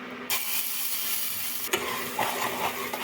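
Asafoetida and spice paste fry in hot mustard oil, a close, steady sizzling hiss with a sharp burst as the paste goes in and light stirring clatter afterward, no voices.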